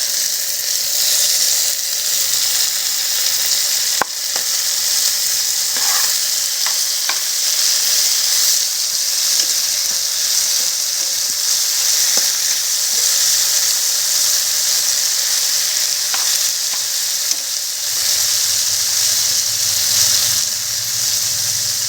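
Green chillies and raw onion fry in hot oil, giving a loud, continuous, close hiss and sizzle that runs unbroken for over twenty seconds, with occasional faint clicks of stirring and no talk.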